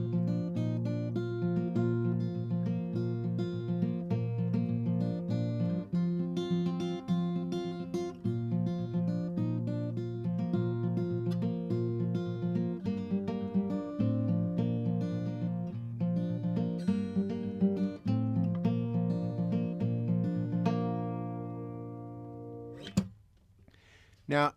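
Acoustic guitar plays the intro picking pattern of a song section, with steady fingerpicked notes and ringing chords for about 22 seconds, then fading out, followed by a brief knock.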